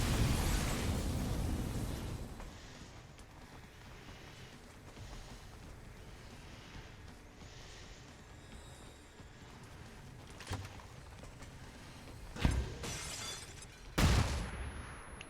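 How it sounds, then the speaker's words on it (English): A flashbang grenade goes off against an enemy turret in the modded strategy game XCOM 2. A loud broadband burst opens and fades over a couple of seconds, followed by a low rumbling bed and a few sharp cracks near the end. "Did he just flashbang a turret?"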